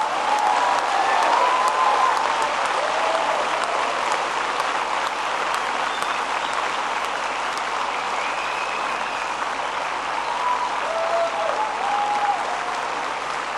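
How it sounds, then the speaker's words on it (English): A graduation ceremony crowd applauds the class of 2014, steady broad clapping from a large audience holding at an even level for over ten seconds, with a few faint cheers mixed in. "Everybody, let's give the class of 2014 the applause they really deserve."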